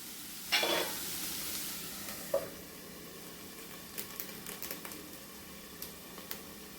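Onions cook slowly on a low flame in a covered pan, a faint, soft sizzle with a brief louder burst early on and a few light taps later.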